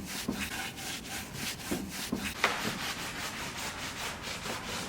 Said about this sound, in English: Now I'm going to apply some Big Mama's Orange Grove butter wax. It is fabulous for reconditioning wood.